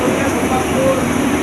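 A train pulling away on the single-track Katwa–Ahmadpur line of Eastern Railway, a steady rumbling drone with faint squeals, close and continuous.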